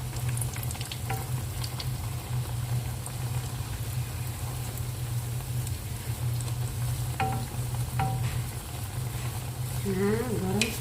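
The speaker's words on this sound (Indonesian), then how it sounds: "Nah, goreng semuanya sampai habis." Cakwe dough frying in hot oil gives a steady, loud sizzle that runs the whole time, with a few brief clinks and light stirring noises on top and faint talking near the end.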